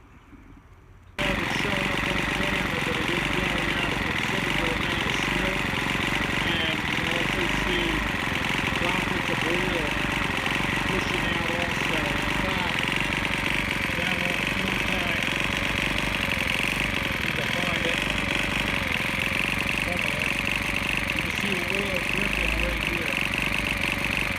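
A Troy-Bilt leaf blower engine catches after a second and runs steadily at a loud, buzzing, rough idle, close and continuous to the end.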